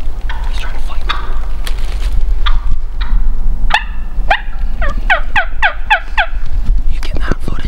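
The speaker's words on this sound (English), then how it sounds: "There's like four more gobblers." Several wild turkeys gobbling on public land in Michigan, a run of loud rattling gobbles in quick succession near the end, with quiet rustling and faint whispering before.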